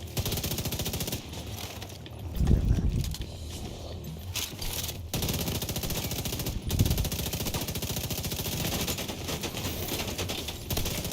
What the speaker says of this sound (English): I can't hit anything with this fucking assault rifle